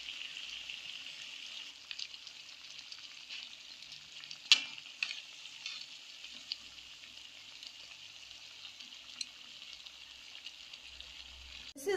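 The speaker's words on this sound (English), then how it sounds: "This is how they are frying." Korean twisted doughnuts (kkwabaegi) frying in a pot of oil, a steady fine sizzle with occasional sharper pops and clicks from turning them, close and fairly quiet, without talk.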